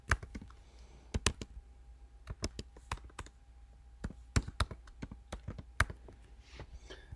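A client name is typed on a computer keyboard in short bursts of close, crisp key clicks separated by brief pauses over a faint background hum, with no speech.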